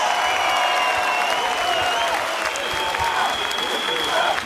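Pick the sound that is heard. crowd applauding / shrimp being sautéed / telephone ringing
crowd applauding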